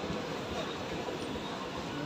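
A MEMU passenger train runs on the rails between Erode and North Coimbatore, giving a dense, continuous rolling rumble and rattle heard from inside the carriage.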